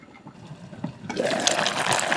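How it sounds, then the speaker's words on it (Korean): A stew of aged kimchi and doenjang bubbles in a medium stockpot, starting as quiet, sparse sounds before a sudden switch to dense, close bubbling and liquid churning, with no talking. "불을 약불로 줄인 후 총 1시간 푹 끓여줍니다."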